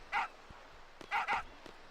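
A dog barks in Final Fantasy VIII, two sets of short yips: one near the start, then a quick double bark about a second later, fairly clear with no talk over it.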